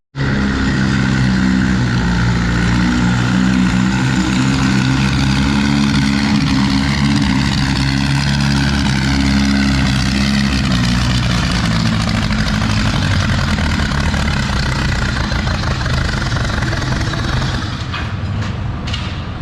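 Heavy pulling tractor engine roaring at full power during a tractor pull at a fall nationals event, a loud continuous drone with rich low harmonics sustained throughout before easing slightly near the end.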